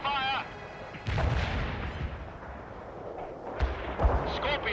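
A mobile mortar barrage in the real-time strategy game World in Conflict lands as a string of heavy, rumbling blasts. Dense battlefield noise and a short radio voice burst sit around the impacts.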